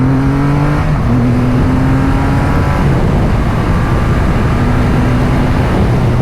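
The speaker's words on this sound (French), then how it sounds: "petit test d'accélération de la Rocket 3" Triumph Rocket 3R motorcycle accelerating hard, loud and close, engine tone climbing through the gears with brief drops at the shifts, over heavy wind roar.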